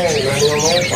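Young oriental white-eyes chirping in quick, high, thin calls, with a person talking over them throughout.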